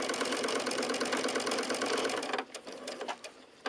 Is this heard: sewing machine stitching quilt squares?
yes